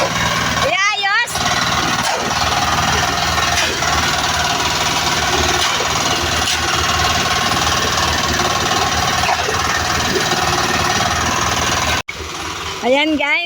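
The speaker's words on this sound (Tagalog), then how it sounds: "Maingay po yung tunog ng mixer." A concrete mixer runs at a building site where an apartment floor is being poured, a loud constant rattling drone near the microphone, with voices talking over it and a sharp cut near the end.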